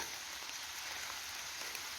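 Light rain patters steadily through a beech forest, a soft continuous hiss of drops on leaves with no voices, close and even throughout.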